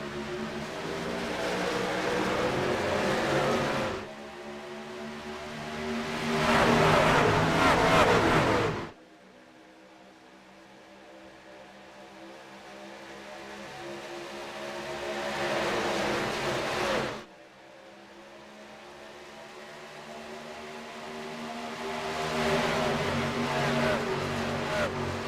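Race cars lapping a high-banked superspeedway oval in the iRacing sim: loud, sustained engine roar swelling and cutting off in waves as the pack passes, with dense broadband drone between.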